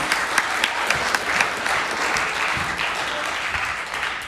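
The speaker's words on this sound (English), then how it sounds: "another round of applause for our awesome singers" A banquet-hall audience at a Pasifika cultural evening applauds the singers, with dense, steady clapping from a large crowd that stays even and sustained throughout.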